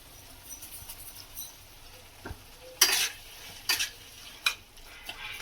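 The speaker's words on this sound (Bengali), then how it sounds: "এটা 2 মিনিট নেড়ে নিতে হবে" A spoon stirs chilli fish masala with turmeric in a pan, making a few sharp scrapes and clicks over a faint low sizzle in an otherwise quiet kitchen.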